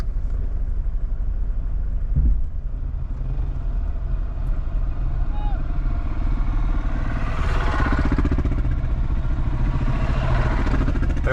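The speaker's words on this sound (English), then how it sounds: "We've got 3 motorbikes behind us." Three motorcycle engines rumble steadily close behind, with a low thrum and occasional rising revs as they ride along a four-wheel-drive track.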